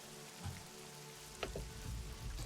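Light, gentle rain patters softly on surfaces nearby, a faint steady hiss with a few scattered drop impacts and no voices.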